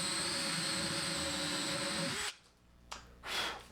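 Loud, steady whine of a power drill boring a 1.25-inch Forstner bit through wood, then it stops abruptly, followed by a couple of short bumps and scrapes.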